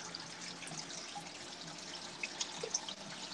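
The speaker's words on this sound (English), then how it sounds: "I'm doing a water change" Water runs steadily from a tap during an aquarium water change, a soft, constant splashing flow with faint drips and no voices.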